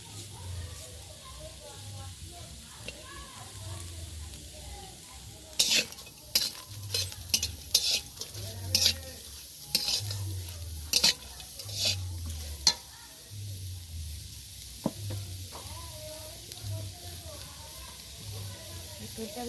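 Chopped onion and bay leaf frying in oil in a wok on a clay stove give a soft sizzle. A spatula scrapes and clinks against the metal in irregular bursts, and a voice talks quietly underneath.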